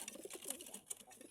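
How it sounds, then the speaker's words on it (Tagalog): Pigeons cooing softly in a brief, faint burst of several overlapping low coos with some light background noise. "Yung mga kalapatids."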